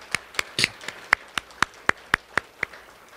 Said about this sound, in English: Let us give our guest a round of applause